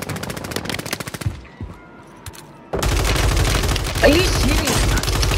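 Rapid automatic gunfire from Call of Duty on Rebirth Island, loud bursts at the start, a brief quieter gap, then sustained dense firing with people talking over it.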